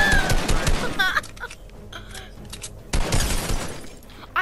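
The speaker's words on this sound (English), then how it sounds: "I just cracked all of your shield" Enemy shields crack and shatter in a Fortnite box fight, with bursts of gunfire and breaking impacts near the start and again after a short lull.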